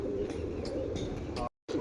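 Captured pigeons give soft, low cooing over a steady background hum, in a few brief rounds that end in a short silence.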